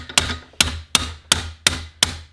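Hammer striking the dog of a Duke 550 or 650 trap held in a vise to adjust pan tension: six sharp metallic blows at an even, moderately quick rhythm, each ringing briefly before the next.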